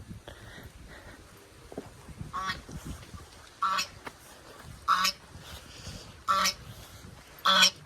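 Loud duck quacks ring out in short, spaced bursts about every second or so, over a quiet outdoor background.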